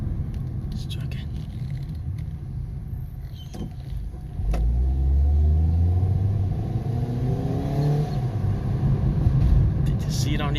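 A car with a hiccup and slight buck on take-off accelerates from rest, its engine rumble rising with a gear change partway through, heard from inside the cabin with people talking quietly over it.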